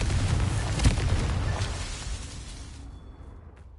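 A Confringo fire spell blasts in Hogwarts Legacy, a loud broadband explosion with a sharp burst near the start that rumbles and crackles on before slowly fading over several seconds, with no one talking.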